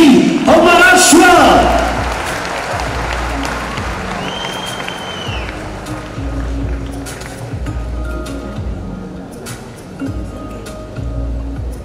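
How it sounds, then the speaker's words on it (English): Audience applause and cheering at the Transform Maharashtra innovation exhibition, a loud burst of clapping and shouts at the start that settles into a sustained crowd roar, with stage sounds and a faint voice underneath. "Keep the applause going,"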